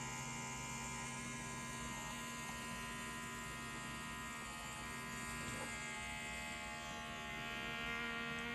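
An Achedaway cupping therapy massager runs with a steady electric buzz and hum, its motor drone holding constant throughout while suction draws against the skin, with no voices over it.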